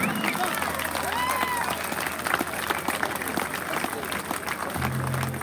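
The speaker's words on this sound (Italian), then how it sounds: "un grande applauso" An audience at a live folk concert in Burcei, Sardinia, applauds steadily for the whole stretch, a dense wash of clapping with crowd murmur and a few whistles, close and fairly loud.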